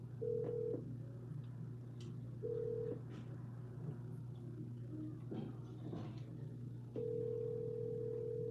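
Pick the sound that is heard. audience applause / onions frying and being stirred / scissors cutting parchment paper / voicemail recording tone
voicemail recording tone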